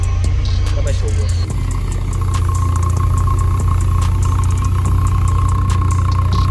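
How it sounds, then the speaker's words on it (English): A car engine idles steadily through an upgraded double exhaust tip, giving a constant low hum with no revving, up close and loud, while a person talks faintly in the background. "Yeah, this is how the car sound like now."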